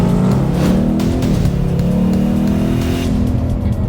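A Ford Mustang V8 accelerates hard from inside the car, its deep engine note rising steadily in pitch with a brief dip for a gear change, loud and continuous, with no talking.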